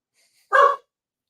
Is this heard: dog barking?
yes